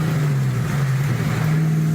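A car engine holds a steady revving drone at close range, loud and continuous, with a throaty exhaust tone suggesting pod filters or headers.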